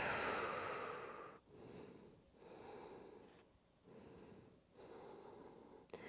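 Slow, deep breaths drawn in and let out during a seated shoulder stretch, several long inhale-exhale cycles close to the listener, fairly loud and with no talking.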